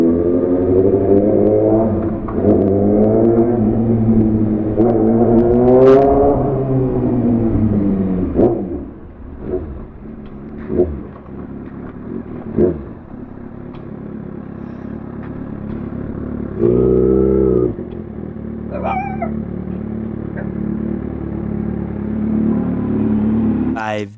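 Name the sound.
motorcade of motorcycles and cars revving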